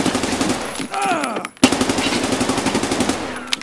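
Automatic gunfire in the shooter game Escape from Tarkov, rapid close bursts of rattling shots, a brief pause and a sharp crack, then another sustained burst; loud and continuous.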